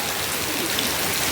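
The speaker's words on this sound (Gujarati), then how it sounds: "ફૂલ વરસાદ આવે છે" Heavy rain pours down in a steady, dense hiss that stays loud and unbroken, with no voices over it.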